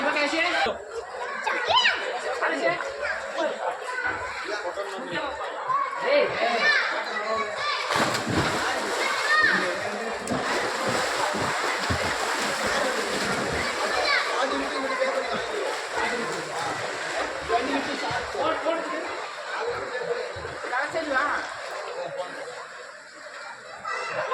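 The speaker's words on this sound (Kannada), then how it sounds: "ಸೆಕೆಯಿಂದ ಸೆಕೆ, ಹಂಗಾಗಿ ಸ್ವಿಮ್ಮಿಂಗ್ ಪೂಲ್ ಆಡೋಣ ಅಂತ ಸ್ವಿಮ್ಮಿಂಗ್ ಪೂಲ್ ಬಂದಿದ್ವಿ" A crowded swimming pool on a hot summer day: constant splashing water and children chattering and laughing, a dense, busy wash of noise close by throughout.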